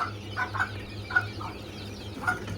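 Week-old quail chicks in a warm indoor brooder give a series of short, high chirps, repeated several times at close range over a low steady hum.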